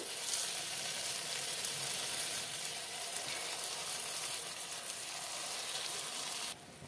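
Continuous bubbling sizzle of lentil fritters frying in hot oil, close and steady throughout, dropping off sharply just before the end.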